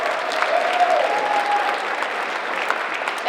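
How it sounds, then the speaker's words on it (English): Students at a 5th grade moving up ceremony at Antheil School get a steady round of clapping from an indoor audience, dense and even throughout the short stretch. "Let's give them one more round of applause."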